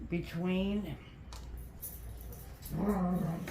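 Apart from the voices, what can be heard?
dogs playing in the background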